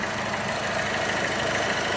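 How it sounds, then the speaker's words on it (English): A Chevy Cruze engine idles steadily up close, with a continuous airy hiss from a bad PCV valve layered over the low rumble. "I think I can hear this hissing sound."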